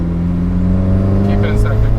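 A car fitted with a new Tomei Expreme Ti exhaust and Grimmspeed catted J-pipe idles loud and close, its low drone lifting slightly in a short blip of throttle as a voice speaks over it.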